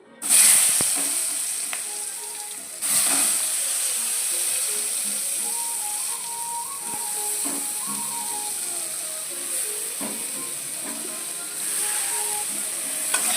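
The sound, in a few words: brinjal (eggplant) frying in oil in a wok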